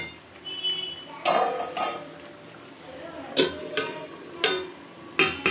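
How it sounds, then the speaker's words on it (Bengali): Metal clanks and taps of a pot lid and utensils over meat cooking with papaya, several sharp knocks spaced irregularly, close and fairly loud, with a faint sizzle beneath. "আবার একটু ঢাকা দিয়ে দিলাম।"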